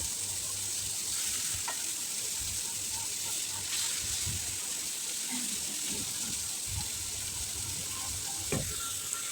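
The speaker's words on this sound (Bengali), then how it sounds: "এখন আমি এক এক করে মাছগুলো দিয়ে দিচ্ছি ফ্যানে" Pieces of pangas fish frying in hot oil in a pan, giving a steady, close sizzling hiss throughout with occasional soft pops and light clinks.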